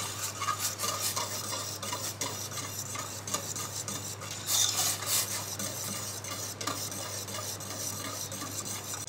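A spoon stirs sugar into hot milk in a pot, giving continuous scraping and clinking strokes in a close, steady rhythm with no talking.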